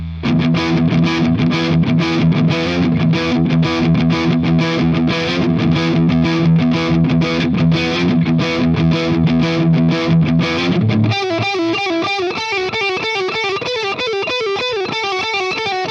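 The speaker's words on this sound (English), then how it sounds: "Again, metal tones, middle pickup." Heavily distorted metal guitar tone from the middle pickup of a modded beginner electric guitar: rapid chugging palm-muted chords for about eleven seconds, then a bending, sustained lead melody, loud and unbroken throughout.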